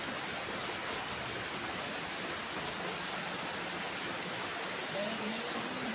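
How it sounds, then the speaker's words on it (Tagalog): Heavy rain pours down steadily and loud, a dense continuous hiss with no gaps, heard alone throughout. "Malakas yung ulan."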